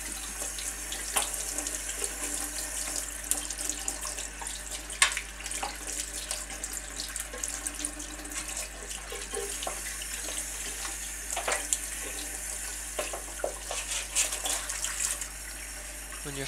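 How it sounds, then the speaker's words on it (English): Lukewarm tap water runs steadily into a sink while a rabbit carcass is washed under it, a continuous close hiss with occasional clicks and splashes from handling, no voices. "give it a real good wash under some lukewarm water"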